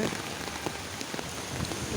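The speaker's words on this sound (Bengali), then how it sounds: "দেখেন প্রচুর পরিমাণ বৃষ্টি হচ্ছে" Heavy rain pours steadily onto the flooded streets of Banani, Dhaka, during Cyclone Remal, a dense, continuous hiss with no voices.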